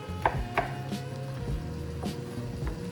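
Avocado being stirred and mashed in a bowl, a handful of irregular close knocks and soft thumps from the utensil against the bowl over a low background.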